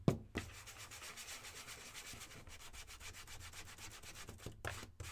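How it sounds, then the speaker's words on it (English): Wooden craft words being sanded by hand with sandpaper, a steady rapid back-and-forth scratching with a few brief pauses, close and clear with no talk. "we're going to sand our words just a little"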